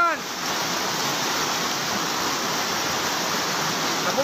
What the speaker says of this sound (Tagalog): Yan po, lalong lumakas ang baha!